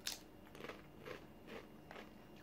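Crunchy cheese-flavoured, spicy Japanese corn chips being bitten and chewed, several close crisp crunches spaced about half a second apart, quiet and without talk.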